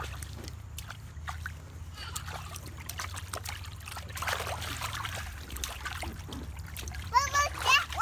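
A garden hose sprays water at home, splashing and trickling in soft bursts nearby while a child and adults chatter over it.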